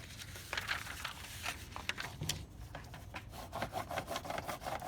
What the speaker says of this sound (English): here's the box lid. Let's try that one. Let's see if I can use my purple crayon here.